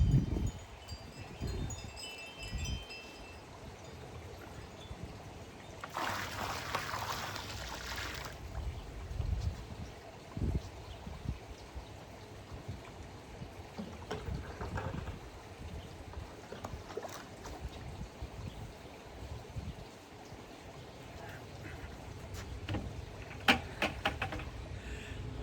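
Acid poured from a bucket into a freshly refinished gunite pool, a steady splashing rush of liquid for a few seconds amid outdoor handling noises and scattered knocks.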